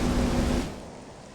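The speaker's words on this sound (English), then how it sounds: "We land in like a heavily rocky, heavily forested area where it never stops raining." Steady rain in Metroid Prime Remastered falls over a rocky, forested landing area as a dense hiss that fades and drops off after about half a second.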